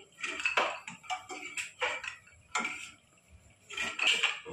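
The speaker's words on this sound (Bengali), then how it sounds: "এবার আমি বড়িগুলো তুলে নেব।" Fried lentil dumplings (bori) being lifted out of a pan, with a series of close metallic scrapes and clinks from a utensil against cookware, coming in irregular bursts.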